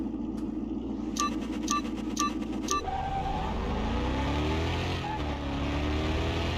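A Dodge Challenger R/T racing a Ford in Car Mechanic Simulator 2021, with engines revving and a whining pitch climbing as the cars accelerate, loud and continuous, after a few short beeps at the start.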